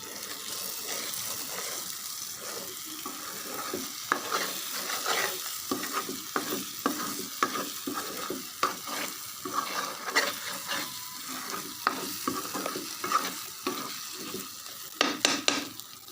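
Tomatoes frying in hot oil for a spicy Rajasthan fish gravy, a steady close sizzle broken by repeated scraping and clinking of a spoon stirring in the pan, with no talking.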